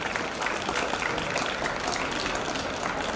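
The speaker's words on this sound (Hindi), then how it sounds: "जोरदार करतल ध्वनि से सभी विद्यार्थियों का अभिनंदन" Steady, dense applause from a large crowd of students at a national school sports meet, loud and continuous throughout with no pause.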